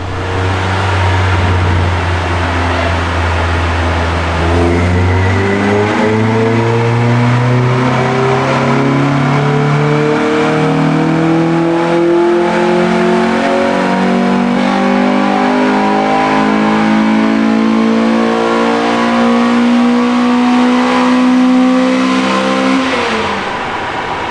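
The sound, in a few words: Acura RSX engine revving during a dyno pull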